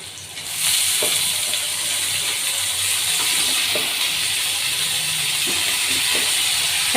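Taro leaves land in a hot oiled pan and set off a loud, steady sizzle that continues for several seconds, with occasional soft clinks of stirring.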